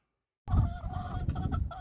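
Chickens at a backyard chicken coop cluck and murmur close by after a brief silence, a busy continuous chatter of hens.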